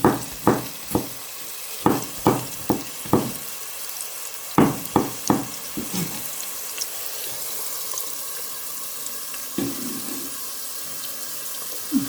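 A utensil stirs food in a pan while a Turkish soup is cooked, giving a series of sharp scraping taps in clusters with faint sizzling and kitchen background between them.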